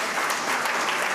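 A congregation applauding Jesus at a worship gathering, steady dense clapping that fills the whole short moment without a break.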